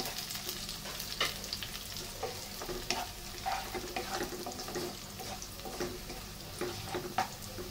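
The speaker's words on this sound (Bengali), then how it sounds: "এখন আমি ভালো করে আবার নেড়ে চেড়ে মিশিয়ে দিচ্ছি।" Onions and whole spices (cardamom, cloves and cinnamon) fry in a pan with a continuous crackling sizzle, while a utensil stirs through them with regular scraping strokes, close and clear.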